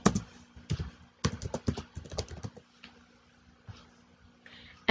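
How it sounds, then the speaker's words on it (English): Quick bursts of close, crisp key taps on a computer keyboard cluster in short runs, then thin out into a few isolated clicks. "So now let me type here"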